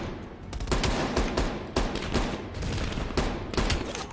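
Dense automatic gunfire in Call of Duty Black Ops Cold War, playing in realism mode, with rapid bursts and sharp recurring shots that hold steady and loud for several seconds without a break.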